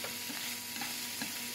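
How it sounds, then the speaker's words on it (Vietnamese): Eggs frying in a pan at a farm kitchen, a soft continuous sizzle with light scraping as they are stirred, faint and close with no talking. "nó lấy trứng nó chiên ăn cho nó nhanh"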